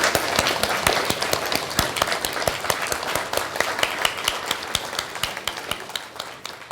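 A round of applause from an audience at an industry conference presentation, a steady mix of many hands with distinct, regularly spaced claps standing out, close and fairly loud, easing slightly toward the end.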